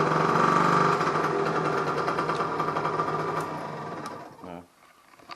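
A Derby AM6 moped engine with a PHVA/PHBN carburetor, freshly tuned, gives a buzzy, high-pitched two-stroke whine that holds and wavers, then drops away and cuts out near the end.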